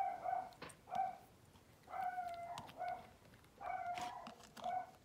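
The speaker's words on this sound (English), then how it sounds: "Oh my god, my dog is crazy." A pet dog barks indoors in short repeated bursts, roughly one every second, moderately loud and close with no talking.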